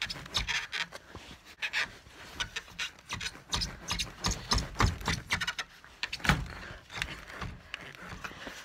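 A frozen vehicle door is forced open on a snowy ranch with repeated close scraping, rubbing and cracking jolts, uneven and effortful, with heavy breathing between the pulls.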